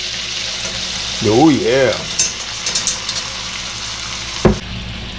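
Shrimp and vegetable stir-fry sizzles in a hot pan as soy sauce goes in, a brief voice exclaiming over the steady frying, followed by a few clattering stir strokes and a sharp knock.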